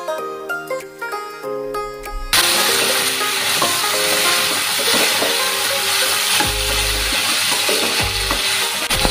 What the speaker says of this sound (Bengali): এই চেপটা মশলার সাথে সুন্দর করে ফ্রাই হয়ে গেছে